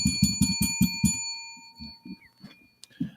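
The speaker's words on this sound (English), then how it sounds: "That's the on point bell." A bell rings in a quick series of about six bright strikes at close range, then trails off into a few softer, scattered taps and a lingering tone.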